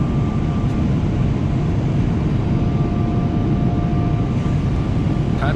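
Steady, loud broadband roar of a Korean Air airliner cabin in flight, with a constant low rumble, a faint steady hum and no voices.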